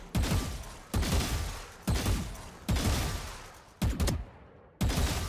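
Single gunshots at a shooting range in a video game, six sharp loud reports spaced about a second apart, each fading quickly.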